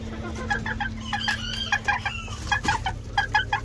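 Chickens and a rooster cluck close by in rapid, uneven bursts, with repeated short calls over a low background hum.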